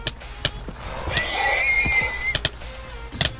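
A horse whinnies loudly for about a second in a Minecraft 1.8 UHC PvP match. Rapid clicks and thumps of combat surround it.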